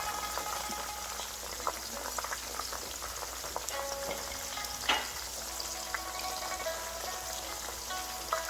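Green halves of spring onion frying in oil for scallion oil noodles, giving a soft, steady sizzle and crackle with scattered small pops and an occasional stir, with no voices.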